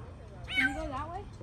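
A cat stuck up high gives one plaintive meow outdoors, faint against a low background rumble.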